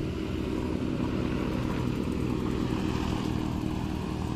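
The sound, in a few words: motorcycle driving fast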